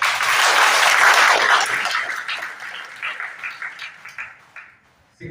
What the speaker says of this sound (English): Really, a big round of applause is required.